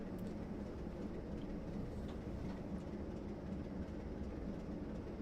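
Freight train rolling along in Train Simulator 2019 on a Great Western route, a steady low rumble of wheels and rail noise, continuous and even throughout with no talk over it.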